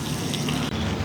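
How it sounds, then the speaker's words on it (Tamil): Water splashed onto a banana leaf outdoors in a village, heard as a brief, steady, close-up hissing splash with no voices. "வாழையில் தண்ணி தெளித்து"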